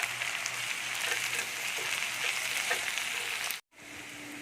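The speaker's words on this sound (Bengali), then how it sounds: "দেখুন আমি কষে নিচ্ছি এটাকে ভালো করে" Cumin, coriander and Kashmiri chili powder sauté in a pan with an even, hissing sizzle that runs steadily, then cuts out briefly near the end before resuming.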